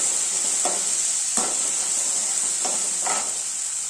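Tomato, rock salt and curry leaves sizzle in hot oil as a steady close hiss, with several short sharper crackles as the pan is stirred.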